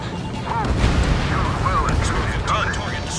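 Explosions from targets being destroyed in the flight combat game Ace Combat 7, a dense, continuous rumble of blasts and bursts with whooshing sweeps layered over it, loud and sustained throughout.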